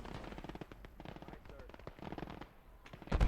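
An Sd.Kfz. 234 armored car fires at a half-track in Gates of Hell: Ostfront, with quiet, rapid, crackling bursts of distant gunfire under voices and game noise.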